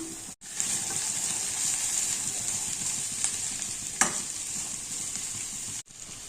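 Carrots and capsicum sizzle steadily in a pan of hot oil while a utensil stirs them, giving a couple of scraping strokes. The sound cuts out briefly at the start and end, and no one talks.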